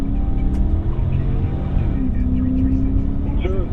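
A stolen police patrol car, a squad car the suspect had just been detained in, pulls away on a highway, its engine a steady low rumble with road noise throughout, over faint radio-like voices.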